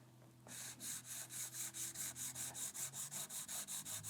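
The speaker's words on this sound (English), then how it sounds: "And just sand it until the little halo is gone." Sanding block wrapped in 320 grit sandpaper worked by hand over wood, a steady rhythmic rasp of about sixteen even back-and-forth strokes, close and fairly loud, with a low hum underneath.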